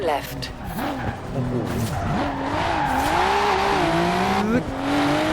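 Nissan Skyline R33 cornering in Forza Horizon 4, its engine note rising and falling in steady revving sweeps with tire squeal through the turns, continuous and fairly loud, with a voice talking over it.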